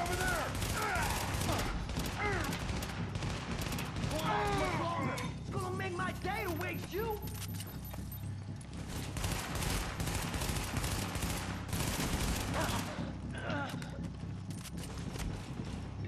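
Enemy shotgun blasts in The Division ring out in bursts amid a chaotic firefight, sharp repeated reports layered over constant gunfire and game noise for the whole stretch, with no voices.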